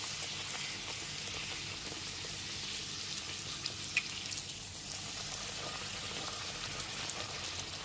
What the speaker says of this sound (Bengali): এইবারে এক একটা করে নানপুরি ভেজে নেব